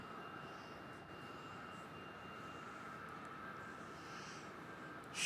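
A landing aircraft approaches runway 27 at Melbourne Airport, a distant, faint, steady engine rumble and whine holding evenly throughout, with a slight rise in loudness at the very end; no voices.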